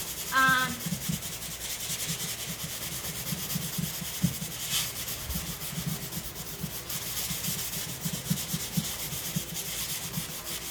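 Worn furniture being roughed up with medium to fine grit sandpaper by hand, a steady run of rhythmic scratchy rubbing strokes close by, continuing for about ten seconds without talk.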